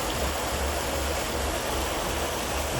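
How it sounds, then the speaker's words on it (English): Water leaking through the middle of a full canal lock gate, a steady, even rushing hiss like a small waterfall, continuous and fairly close with no voices. "I can't see any more source of water other than the leak through the middle of the gate."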